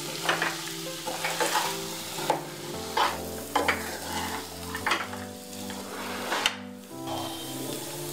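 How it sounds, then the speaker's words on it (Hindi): Poha and vegetables are stirred in a frying pan with repeated scraping strokes and clinks of a spoon against the metal over a low sizzle, in an uneven rhythm without speech. "तो पोहे को सब्जी में मिक्स कर लेंगे."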